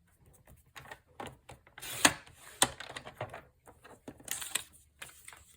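A paper trimmer cuts stamped card stock to size for card making: quiet, close scraping slides and sharp clicks come in short bursts with pauses between them.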